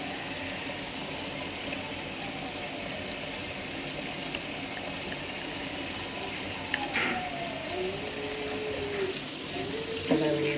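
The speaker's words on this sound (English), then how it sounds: "And then we rinse it." Breast pump parts rinsed under a running tap: a steady, moderate hiss of flowing water splashing in a sink, with a few small clinks and a squeak near the end, and no speech.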